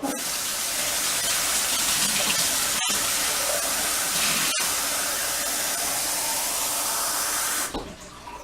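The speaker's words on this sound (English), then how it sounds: "I'm going to add just a little bit of water to the bottom." Water poured from a tap or jug into the bottom of a roasting pan holding a 6-pound bird in a home kitchen, a steady close splashing gush that runs unbroken for several seconds, then stops abruptly.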